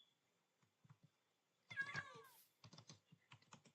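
A cat gives one short, close meow, framed by soft, scattered taps of a computer keyboard before and after it in an otherwise quiet room.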